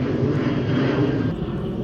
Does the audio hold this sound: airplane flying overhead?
yes